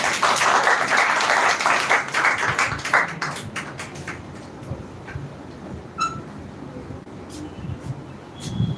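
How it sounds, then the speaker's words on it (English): Students in a classroom session clap for a mentor, loud scattered applause at first that thins into a few separate claps and taps, with some background murmuring. "Clap for him."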